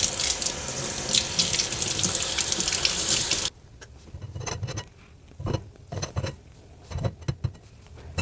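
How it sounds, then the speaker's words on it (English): A kitchen tap pours a loud, steady stream while elderberry seeds are rinsed. After about three seconds the water shuts off, leaving faint clicks, drips and small handling sounds. "I'm going to rinse it a little bit more"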